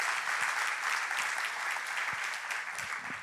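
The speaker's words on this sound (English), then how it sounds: "Yeah, you can clap for that." A crowd at a talk breaks into sustained applause, steady and full, alone with no voices over it, easing slightly toward the end.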